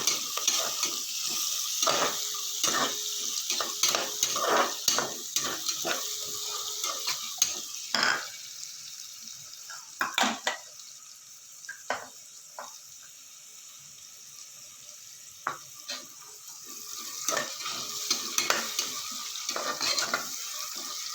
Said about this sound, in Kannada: ಅರಿಶಿನ ಪುಡಿ ಹಾಕಿ ನೀಟಾಗಿ ಇದನ್ನು ಚೆನ್ನಾಗಿ ಫ್ರೈ ಮಾಡ್ಕೊಳ್ಳೋಣ